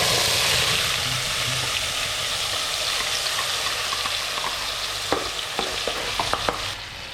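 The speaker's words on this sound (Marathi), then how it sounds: "ते सर्व आपण तेलामध्ये शिजवूया" Koli-style barramundi fish curry ingredients fry in hot oil with a steady, close sizzle, and a few sharp spoon clicks against the pan near the end.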